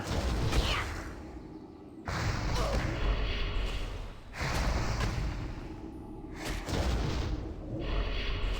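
Shadow bolt spells striking in the World of Warcraft: Burning Crusade Anniversary video game, four heavy whooshing impacts at roughly two-second intervals, each a sharp hit fading into a rumbling tail.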